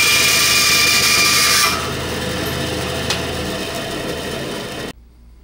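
A bandsaw whines loudly through a wooden dowel for a couple of seconds, then runs on with a steadier, quieter hum before cutting off abruptly.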